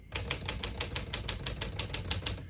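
Typing on a 1956 Smith-Corona Silent-Super portable typewriter, a close, steady run of about fifteen crisp key strikes at an even, brisk rhythm.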